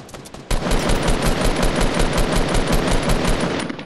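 Rapid automatic gunfire in Fortnite, loud and close, a dense unbroken stream of shots kicking in after a brief quieter start and continuing steadily to the end.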